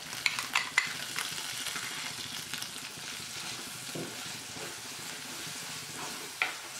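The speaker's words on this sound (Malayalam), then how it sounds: "അരപ്പ് ചേർത്തതിന് ശേഷം 2-3 മിനിറ്റ് ഒരു മീഡിയം ഫ്ലെയിമിൽ വെച്ച് നന്നായിട്ട് വഴറ്റി കൊടുക്കണം." Ground masala paste stirred with browning onions in a pan over medium flame for a Kerala fish curry, giving a steady sizzle and frying crackle with a few spoon scrapes and clinks, close and moderately loud.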